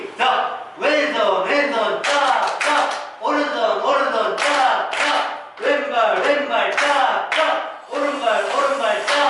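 Rhythmic group hand clapping in a frog-clap recreation game for seniors at a day care center, repeated bursts of claps in a patterned beat with short pauses between rounds, mixed with voices chanting along.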